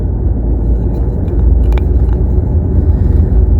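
Car driving off, a loud, close, steady low rumble of the engine and road noise that continues throughout without a break.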